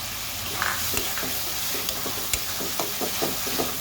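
Ginger garlic paste and onions fry in a pan with a steady, close sizzle, broken by repeated soft scrapes and knocks of a spoon stirring the mixture.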